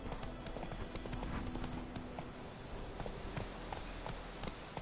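Horse hooves clip-clopping in the video game The Witcher 3, a steady, brisk run of repeated hoofbeats with ambient game sound underneath.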